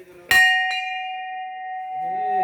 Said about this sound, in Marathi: घंटी वाजवतो